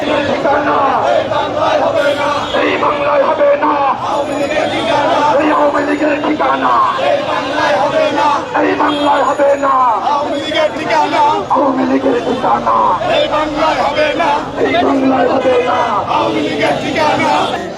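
Protest march crowd in front of the National Press Club in Dhaka, many voices chanting loud rhythmic slogans in unison, with repeated call-and-response bursts over a constant hubbub of the moving crowd.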